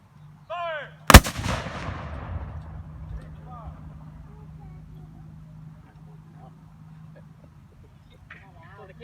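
A Civil War Model 1857 light 12-pound howitzer cannon fires once outdoors with a sharp, loud boom followed by a long rolling echo that fades slowly, while birds chirp in the background.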